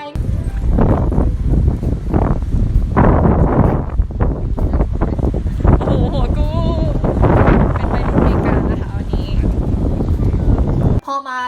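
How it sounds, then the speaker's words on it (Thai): Strong, constant wind blows outdoors in San Francisco, roaring and buffeting the microphone loudly throughout, with a voice faintly mixed in. "ลมแรง ลมพัดตลอดเลย"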